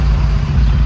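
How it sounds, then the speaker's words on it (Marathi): Road traffic in a full jam near Jejuri, with vehicles standing on a one-sided road, heard as a steady low engine rumble close by and without speech. "फुल ट्रॅफिक"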